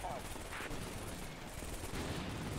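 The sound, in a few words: Javelin missile launch and gunfire in Combat Mission: Shock Force video game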